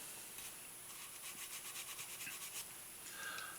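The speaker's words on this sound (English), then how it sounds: "The brush will get down into those corners, get the crap out." Small cleaning brush scrubbing the corners of a Beretta U22 Neos pistol: quiet, close bristly rubbing in quick back-and-forth strokes, soft and hissy, with no talking.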